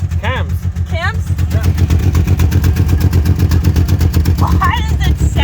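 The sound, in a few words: Jeep Liberty engine running and misfiring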